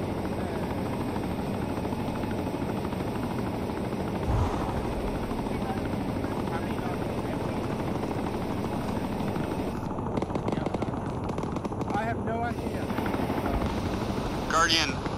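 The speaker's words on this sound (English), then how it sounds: "keep moving towards the chopper" A helicopter in the Arma 3 video game thrums close and loud with a constant rotor and engine roar, while people talk intermittently under the noise.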